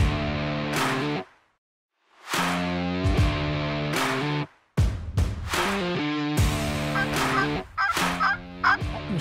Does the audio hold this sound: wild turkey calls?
yes